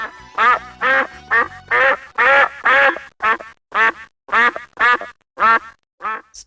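A duck quacks loudly and close by in a steady run of about a dozen harsh, nasal calls, each separated by brief silence, with no other sound around it.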